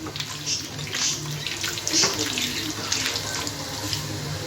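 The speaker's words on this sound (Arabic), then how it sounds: "اغسل ايديا كويس علشان الدم بتاع الكبده" Tap water runs steadily into a kitchen sink as hands are washed clean of liver blood, a close continuous splashing stream with small bursts as the hands move under it.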